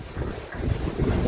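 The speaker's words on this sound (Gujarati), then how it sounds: "પવન બહુ જ છે" Strong wind roars steadily and close, buffeting the microphone with a deep, gusty rumble that swells toward the end; no one speaks.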